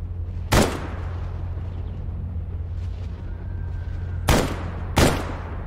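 Three sharp gunshots in the video game STALKER: Anomaly, one early and two close together near the end, over a steady low hum and background noise.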